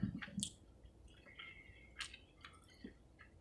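Soft, wet chewing of corn nuggets, heard close up as quiet irregular crunches and squishes with short pauses between.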